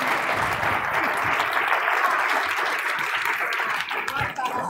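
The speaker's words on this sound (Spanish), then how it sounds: "Un aplauso para María" Audience applause at a rural gathering's inauguration, a dense continuous roar of many hands clapping, loud and close, tapering slightly near the end.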